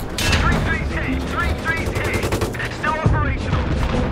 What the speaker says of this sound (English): M240 coaxial machine gun by pressing 2 on the keyboard